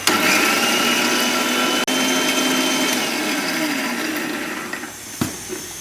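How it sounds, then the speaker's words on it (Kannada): A mixer grinder blends cooked mixed leafy greens with a little of their cooking water into a smooth paste, giving a steady, loud whirring drone that fades slightly before a brief knock near the end, with no speech. "ಸೊ ಈ ಥರ ನುಣ್ಣಗೆ ಆಡಿಸ್ಕೊಳ್ಳಿ. ಆಲ್ಮೋಸ್ಟ್ ಚಟ್ನಿ ಥರ ಆಯಿತು."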